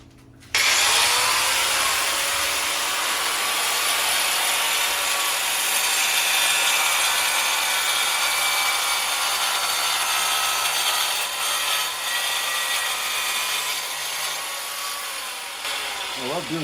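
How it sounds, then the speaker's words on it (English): An angle grinder cuts through material during kitchen renovation work, a loud, continuous high-pitched whine that holds steady for most of the stretch before winding down near the end. "So I got an angle grinder here, which is a good thing anyways,"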